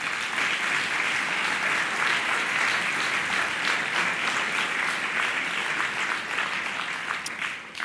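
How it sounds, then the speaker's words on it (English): Sustained applause from a large audience at an annual gala dinner, a steady, full wash of clapping that holds for several seconds before tapering slightly at the end. "I would like us at this point in time to give a big applause both to Ron and to Kenneth"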